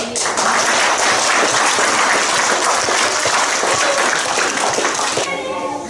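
Loud, dense applause from an audience at a children's police program year-end event, sustained clapping filling the room for several seconds before tapering off abruptly near the end.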